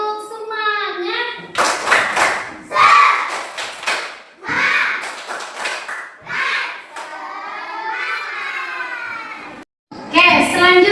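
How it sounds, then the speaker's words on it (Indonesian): Children in a classroom clap and chant a rhythmic cheer in bursts, sung voices over sharp hand claps, loud and close, with brief pauses between phrases. "Oke, tepuk semangat."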